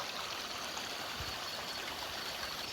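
A rocky stream in a Sumatran rainforest flows steadily, with continuous rushing and trickling water close by that stays even for the whole stretch, and no voices are heard.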